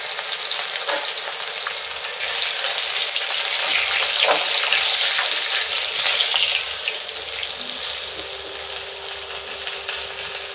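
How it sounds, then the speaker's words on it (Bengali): Salted rohu fish pieces fry in hot oil in a kadai, giving a loud, steady, close sizzle with faint crackles throughout and no talking. "तेलटा गरम हो गेछे माछगुलो आमि भेजे नेब"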